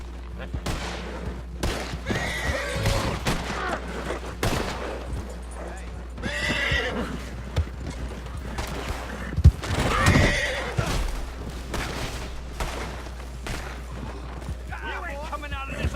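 Horses in the Red Dead Online video game whinny and neigh repeatedly over hoof clopping, with scattered gunfire bursts and game character voices shouting throughout.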